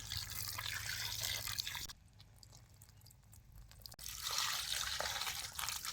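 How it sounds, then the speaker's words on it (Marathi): Goat head and trotter meat being rinsed in water, with steady splashing, sloshing and dripping close by, pausing briefly midway before the washing resumes. "आता हे जरा स्वच्छ धुवून घेतो"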